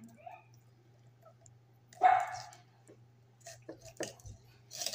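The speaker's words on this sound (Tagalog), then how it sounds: "Pasensya na po sa ingay ng aking mga aso." Several dogs let out one loud sharp bark and then a few faint yips and whimpers in a quiet kitchen, with a low steady hum underneath.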